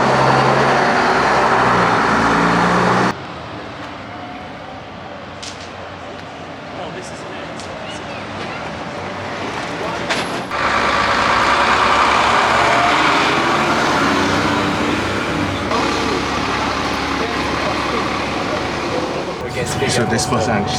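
Old London bus engine heard from the lower deck with the engine at the rear, a steady low rumble and road noise; speech is audible in places over it.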